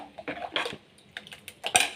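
A spoon clinks and scrapes against a pot while sambar powder and pepper water are stirred into a greens saaru, a few short irregular metallic taps, close and fairly quiet.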